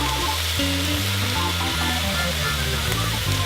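Chopped onions, celery and carrots sauté in a pot for chicken and dumplings, giving a steady, close, even sizzle that holds at the same level throughout.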